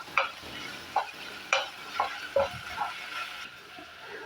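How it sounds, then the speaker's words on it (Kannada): Masala of salt and chilli powder frying in oil in a pan, with a soft sizzle broken by regular scraping stirs of a spoon roughly every half second. "ಇವಾಗ ಇದು ಚೆನ್ನಾಗಿ ಮಸಾಲೆ ಎಣ್ಣೆಲೆಲ್ಲ ಇದು ಫ್ರೈ ಆಗಬೇಕು."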